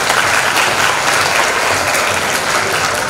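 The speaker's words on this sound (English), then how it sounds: "Can we get a round of applause for the students, please?" An audience at a school workshop gives the students a round of applause, with loud, dense, continuous clapping that fills the room close by and shows no break and no voices.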